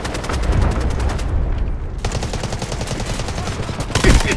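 Artillery barrage in the Delta Force video game: dense, continuous rapid blasts and booming impacts pounding for several seconds, loud and close, with a heavy burst near the end.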